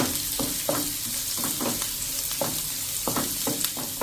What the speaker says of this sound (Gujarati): તો આપણા કાંદા અને મરચાં બધું કૂક થઈ ગયું છે।